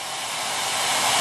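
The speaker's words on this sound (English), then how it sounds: "now I'm going to set the hair dryer to the high speed" A hair dryer blows on its high setting, drawing about 1480 watts, a loud steady rushing whoosh with a faint rise in pitch, running alone without any voices.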